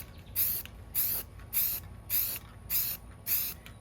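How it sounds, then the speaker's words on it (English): Short bursts of Rust-Oleum flat white spray paint on a tumbler, six evenly spaced hissing puffs close to the microphone with quiet pauses between them. "I'm using flat white from Rust-Oleum. I'm going to do short little bursts, so hopefully I don't get too much pooling."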